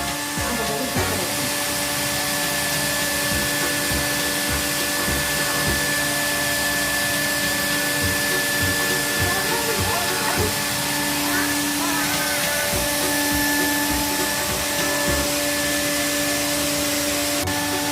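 A vacuum cleaner runs continuously to inflate a Disney McQueen car-shaped air mattress, a loud steady whine with a tonal hum that holds for the whole stretch, with faint voices in the background.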